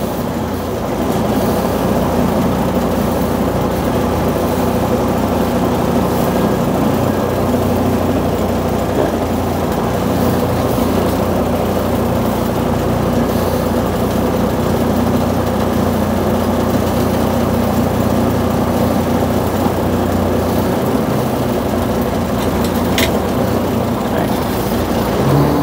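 A crane truck's engine runs steadily as the vehicle is put in gear and reverses, a continuous low rumble holding at the same level throughout with no voices.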